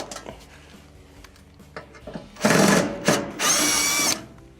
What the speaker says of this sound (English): We must first remove the lower panel here with the two Phillips screws.